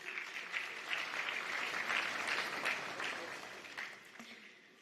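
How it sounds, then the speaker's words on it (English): A warm round of applause from the audience at a business conference, a steady wash of clapping that swells and then tapers off over a few seconds. "give a warm round of applause to Miss Marie-Angèle Touré"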